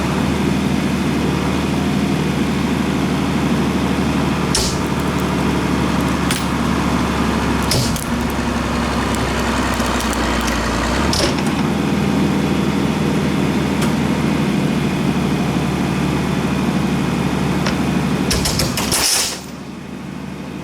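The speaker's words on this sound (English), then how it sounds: "We're gonna tie it to a tractor" A loud, steady tractor engine rumbles continuously at close range, with a few sharp clanks and bangs, then cuts off abruptly near the end, while trying to pull open a safe.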